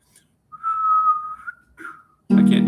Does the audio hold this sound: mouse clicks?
no